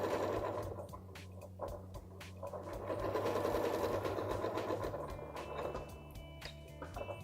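Close up, a sewing machine hums and stitches steadily along a seam allowance for a mock French seam, its motor whirring in a continuous run that shifts slightly in pitch.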